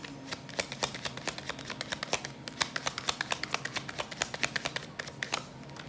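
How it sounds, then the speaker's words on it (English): Tarot cards being shuffled vigorously by hand, a steady rapid run of crisp papery riffles and taps close up, with no talking over it. "I'm shuffling the hell out these damn cards."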